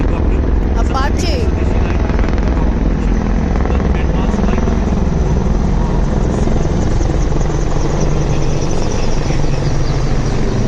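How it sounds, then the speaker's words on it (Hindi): An Apache helicopter passes over an army day parade in Jaipur, its rotor chop loud and steady throughout, with crowd noise and a voice mixed in underneath. "इसमें शामिल है अपाचे हेलीकॉप्टर"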